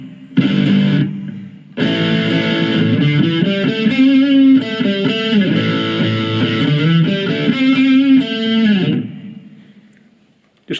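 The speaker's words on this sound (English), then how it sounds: "I'll put a reverb on that rather than a chorus. So my reverb, hopefully you can hear the sort of the room echo type noise there" An electric guitar plays single-note phrases through a Blackstar ID Core V3 amplifier with a reverb effect, giving a roomy echo and a lingering tail after each phrase, loud and close, in two passages separated by a short gap.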